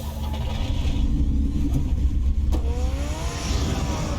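A car engine revving in Batman: The Telltale Series, a steady mid-pitched motor rumble that swells and climbs in pitch toward the end, close and continuous with no talk over it.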